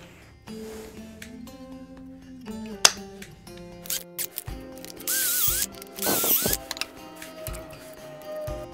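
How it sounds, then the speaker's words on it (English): A drill bores pocket holes through a jig clamped to a wooden foot piece for a chair, giving a couple of short, loud whirring bursts midway through the clip over quieter background music. "we'll be putting pocket holes on both sides of our feet"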